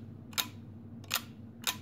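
Three crisp mechanical shutter clicks from a pink plastic Holga 120N medium-format camera, evenly spaced and close up, each a short sharp snap over a quiet low hum.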